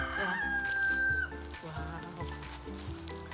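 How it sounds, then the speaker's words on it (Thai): Rooster crowing on a Thai farm, a single drawn-out crow near the start fading after about a second, over steady low background noise and other farm sounds. "เดี๋ยวจะไปทะเลาะกับไอ้โต้งอีก ไปนั่นไก่โต้ง"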